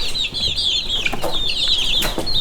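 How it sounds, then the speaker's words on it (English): Red mottled Ancona bantam chicks chirp and cluck close by in quick, high peeping bursts, with a few soft rustles, and no talking. "And next year we should have a decent amount of red mottled Ancona bantams."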